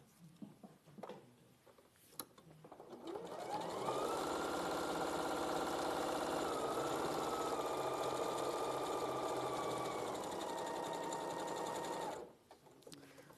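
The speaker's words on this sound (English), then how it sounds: "just going to pin that into place and then stitch straight across at my 1/4 of an inch seam allowance." A sewing machine stitches straight across fabric at a quarter-inch seam. It runs up to speed, holds a steady, even whir for about eight seconds, then stops, with a few faint handling clicks before and after.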